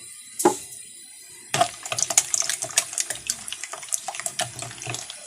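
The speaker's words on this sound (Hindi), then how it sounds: "आधे गिलास पानी डालेंगे।" Water poured into a chicken broast leg-piece marinade mixture, a short splash followed by a longer run of trickling and sloshing with small irregular splashes, close and fairly clear, with no talking.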